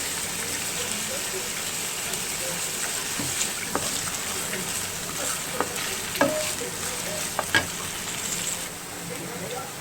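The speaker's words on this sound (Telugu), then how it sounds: "ఆనియన్స్ వేసుకుని కలుపుకుందాం" Onions are stirred as they fry in a pan of oil, giving a constant hissing sizzle with scattered scrapes and taps from the utensil, and a faint voice in the background.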